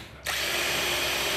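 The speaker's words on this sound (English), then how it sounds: "This should stop me drilling all the way through and make the task slightly easier." A power drill bites into a homemade rocket part, its depth limited by a collar cut from PVC pipe. After a brief quiet start the drill spins up and whines loudly and steadily at close range, with nobody speaking.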